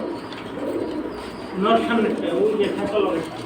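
A pair of Satchila pigeons coos at a pigeon market, soft repeated calls rising over a busy bed of market noise while people talk nearby.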